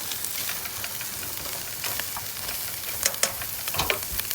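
Frozen hash browns frying with kielbasa and sausage in a pan at a camping breakfast, a steady sizzle and hiss with scraping stirs growing busier near the end, close and alone.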